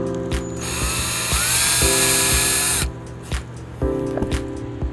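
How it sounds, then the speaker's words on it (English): A power drill bores a pilot hole at the edge of an opening in a wooden FLL table frame, its motor whining steadily for about a second and a half amid close clicks and handling knocks. "usually what I do in order to pull everything together, I'll do my pre-drill pretty much right at the edge of the opening"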